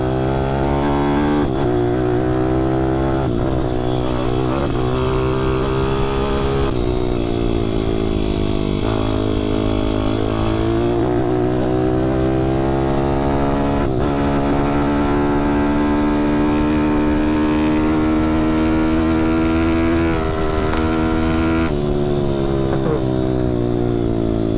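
A 155cc pit bike engine ridden along a track, loud and close throughout, revving and climbing steadily through the gears with brief dips at the shifts.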